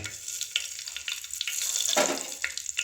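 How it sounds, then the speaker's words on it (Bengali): Bay leaves dropped into very hot oil for handi chicken cooked on a gas stove, a sharp close sizzle that swells in bursts and then settles to a light crackle. "তেলটি খুব গরম ভালোভাবে গরম হয়ে গেছে এবার দিয়ে দিচ্ছি তেজপাতা"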